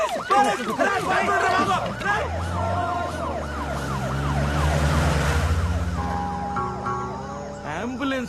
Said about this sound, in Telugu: అంబులెన్స్ రా.